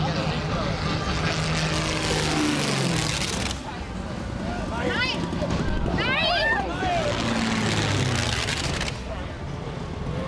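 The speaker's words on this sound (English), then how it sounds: "A small plane lost control and plunged into a river as it performed stunts at an airshow in Poland." A small propeller stunt plane at an airshow over the Vistula River in Plock, Poland, its engine droning and swelling amid wind buffeting and crowd noise, with people talking and exclaiming throughout.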